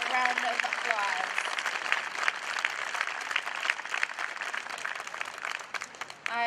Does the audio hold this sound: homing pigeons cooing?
no